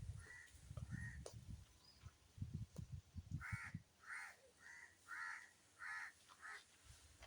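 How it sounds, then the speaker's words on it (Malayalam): A crow caws repeatedly near a monkey, a series of harsh calls in an irregular rhythm at moderate distance, with low thumps and rustling in the background. "അതിന് കൂടെ കാക്ക ഇരുന്നുണ്ട്."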